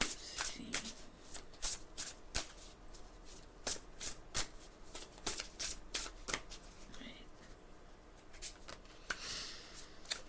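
Oracle cards being shuffled by hand: a quick run of crisp riffling and flicking bursts, close and steady, with a few short pauses and no talking.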